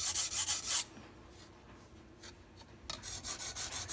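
Quick, rhythmic back-and-forth strokes of a MAC chef knife on a sharpening stone, a close rasping scrape in short repeated bursts, pausing in the middle before resuming.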